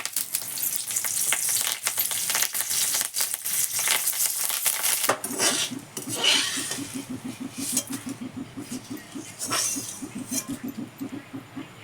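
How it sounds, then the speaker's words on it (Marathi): Curry leaves frying in hot oil for a chivda snack, with loud, dense crackling and spitting at first, then a steadier bubbling sizzle broken by stirring clinks. "आता हा कढीपत्ता पण आपण असा तळून घेऊया"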